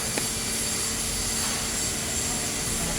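A car engine idles in a steady, even hum during a test of its engine management speed sensor.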